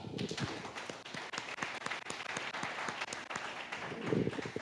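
A church congregation applauds during a worship service, with dense continuous clapping from many hands at a moderate distance, swelling slightly toward the end, and faint voices beneath.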